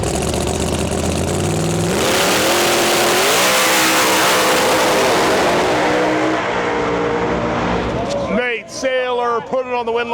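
A pro mod drag race car on a qualifying pass at the Rocky Mountain Nationals, its engine roaring loud and near with rising revs for several seconds before cutting off, leaving crowd and voices audible.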